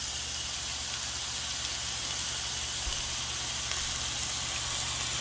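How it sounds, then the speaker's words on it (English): Steak searing in a hot pan gives off a loud, continuous sizzle and hiss that holds steady throughout with no voices. "Now this is going to be a quick sear, 1 minute on each side."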